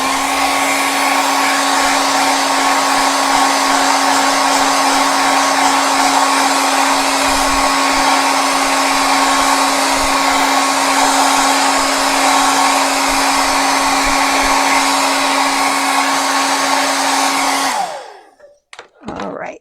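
A hair dryer blows loudly and steadily for about eighteen seconds while drying watercolor paint on a banner, with a constant whirring hum, then clicks off abruptly.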